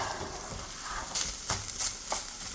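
Tuna cooking on a hot spat surface, a low steady sizzle with a few brief crackling bursts and scrapes, fairly quiet and close, no speech.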